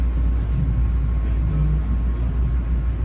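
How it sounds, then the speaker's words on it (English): A Long Island Rail Road train departs Jamaica station bound for New York, giving a steady, loud low rumble that holds evenly throughout with no break. "got a New York bound train departing Jamaica"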